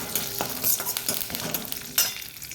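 Red chillies stirred in hot oil with mustard seeds and urad dal, a steady close sizzle broken by several scraping stirs of a spoon in the pan, no voices.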